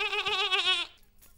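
A goat lets out one loud, wavering bleat close by, lasting under a second before fading into quiet room noise.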